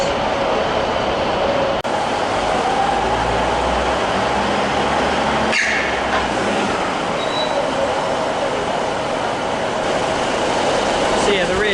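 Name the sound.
diesel electric train engine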